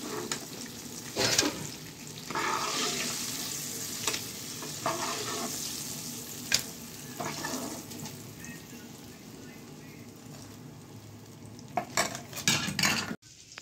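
Pieces of fried chicken being lifted one by one out of hot oil in a pan, with a steady close sizzle broken by utensil clinks and scrapes; no one speaks.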